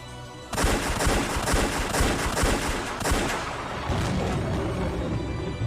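More than a thousand ballista bolts loosed at once in a dense, continuous barrage of overlapping cracks and thuds, loud and sustained for several seconds after an abrupt start.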